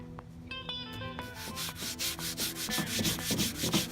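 Belt sander with rough 60 grit paper working across black willow wood for a mantel, a continuous gritty rubbing and scraping with pulsing strokes, close and fairly quiet, no voices.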